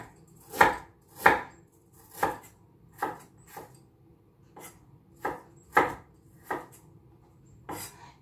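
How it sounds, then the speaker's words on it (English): Fresh ginger sliced with a knife on a wooden board for a mussel tinola, about a dozen crisp, close chops in a loose, unhurried rhythm with quiet gaps between them. "Now we're gonna slice the ginger."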